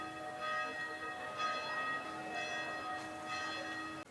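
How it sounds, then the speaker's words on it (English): A church bell rings out in Venice on Halloween, its rich metallic tone struck repeatedly about once a second and carrying steadily from some distance behind the listener. "Wow, you hear that bell back there?"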